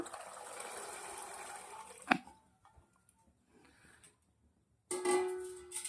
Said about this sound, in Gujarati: આપણે વટાણા નાખી દઈશું અંદર